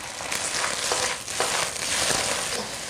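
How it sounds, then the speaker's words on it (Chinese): Diced celery and lettuce stems hiss loudly in hot oil over high heat. Repeated tossing scrapes sound through the steady close sizzle. "大火快速的炒匀"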